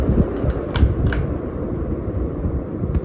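An electric fan with a broken blade that could come loose, running indoors: a steady close whirring drone with a few sharp clicks and rattles near the start.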